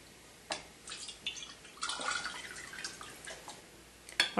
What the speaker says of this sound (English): I have this 1 cup ladle that's been sanitized, and I'm going to use that to transfer my shortening